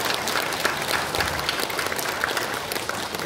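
A church congregation claps together during a sermon, a brief burst of dense, even applause filling the room.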